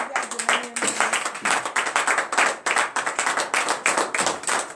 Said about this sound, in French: Donnez une vive acclamation à Jésus